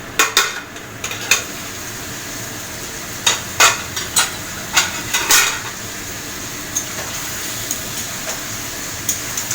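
Meat curry with papaya being stirred and sautéed in a pot, repeated metallic scrapes and clanks of a spoon against the pot over a low sizzle, no speech.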